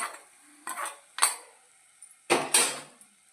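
A spoon clinks and scrapes against a pot or bowl while tempering is stirred into a homemade tomato pickle, several separate clattering strokes in a quiet kitchen.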